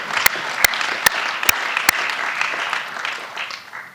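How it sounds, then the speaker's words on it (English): Applause fills the hall at the 2015 Leaders' Summit on UN Peacekeeping for countries committing troops, a dense steady clapping with a few sharp, loud claps standing out early, fading slightly at the end. "So let's give those countries a round of applause."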